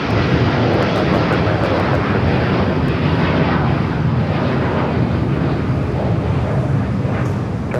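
A heavy Delta airliner on final approach to runway 25 left at Los Angeles airport roars in a steady, loud, broadband wash of jet engine noise that holds without a break, with slight wind rumble and no talk.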